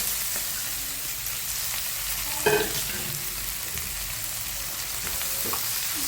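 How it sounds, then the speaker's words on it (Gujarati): Mustard seeds, cumin, asafoetida and green onion sizzling in hot oil, a dense steady crackle with a brief sharper burst as ingredients are added and stirred, close and continuous with no speech. "રાઈ થઈ જાય એટલે જીરું, સહેજ હિંગ અને લીલી ડુંગળી કટ કરી એડ કરી લઈએ."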